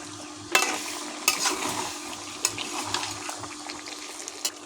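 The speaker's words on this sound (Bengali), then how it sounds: "ভালো করে নেড়ে দিলাম।" Curry with goat fat and potatoes is stirred in a frying pan, with a low sizzle under a few distinct scraping strokes of the spoon spaced about a second apart, close and clear.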